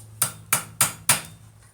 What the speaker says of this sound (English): Well, now flatten it out on the anvil.